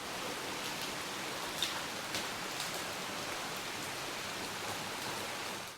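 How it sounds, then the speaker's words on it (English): Steady rain falls outdoors during a hike, giving an even hiss with a few faint drop ticks throughout, soft and with no voices. "we didn't quite beat the rain out of here"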